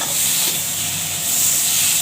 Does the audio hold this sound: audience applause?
no